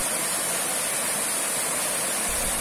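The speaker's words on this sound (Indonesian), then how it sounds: "ketika musim penghujan, aliran air terjunnya akan keluar cukup deras" Curug Kalba, a seasonal waterfall in the Serayu Selatan mountains, pours heavily in the rainy season as a steady, dense broadband rush that stays loud and unbroken with no voices.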